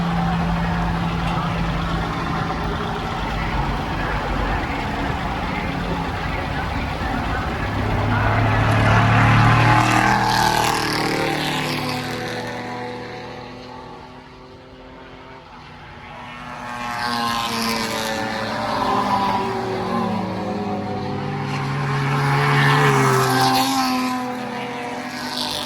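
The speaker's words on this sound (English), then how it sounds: "So we've jumped on one of the tractors" A tractor engine pulling a ride around the Goodwood Revival track runs loud and steady throughout, rising and falling in level with some chatter underneath.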